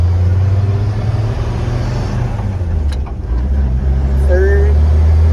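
A 1954 Ford F100 pickup truck with a synchronized manual transmission accelerating through its gears, a loud steady low engine drone heard from inside the cab, dipping briefly at a shift before rising again.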